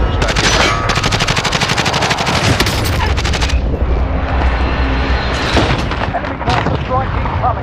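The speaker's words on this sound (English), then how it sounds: "Shots fired." Rapid automatic gunfire and booming shots from Call of Duty Warzone, loud and continuous at first and then thinning into scattered blasts, with a voice talking over the action.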